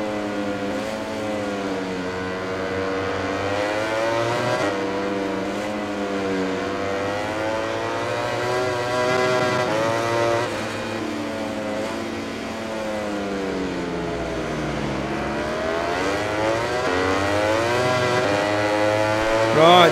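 Suzuki and Ducati racing motorcycle engines scream in the MotoGP 20 video game. The high-pitched revving rises and falls continuously as the bikes shift and corner, with commentary-style talk over it.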